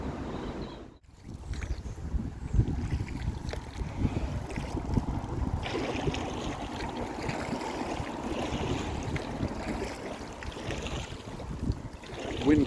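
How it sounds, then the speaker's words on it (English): Steady wind buffets and rushes over open water, a constant breezy roar with soft watery movement underneath, no talking. "Wind has actually picked up a little bit around this bend."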